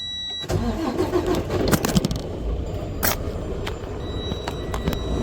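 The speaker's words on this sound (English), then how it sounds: "Now you test it, truck starts." A Freightliner Cascadia truck engine cranks and fires up with a newly fitted ignition key, a sharp start after a quiet moment followed by a rough, steady idle with a few clicks and knocks over it.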